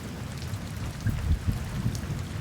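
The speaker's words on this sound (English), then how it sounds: "yeah, thunderstorms in the desert" Rain falls steadily during a desert thunderstorm in Namibia, with a dense close hiss of drops striking surfaces over a low rumbling of thunder and a few heavier splats, no one speaking.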